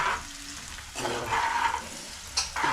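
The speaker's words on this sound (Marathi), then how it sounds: "मस्त हे भाजून घ्या तळून घ्या म्हणजे फ्राय करून घ्या कांदा" Onion frying in a pan, heard as bursts of loud sizzling that rise and fall as the onion is stirred, with brief quieter gaps and a sharp clink near the end.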